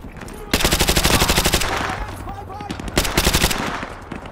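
Rapid machine-gun bursts in Call of Duty Modern Warfare 2 Remastered, two loud sustained volleys separated by a brief lull with echoing tails, up close and without talk.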